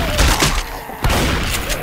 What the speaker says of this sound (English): Shoot the zombies.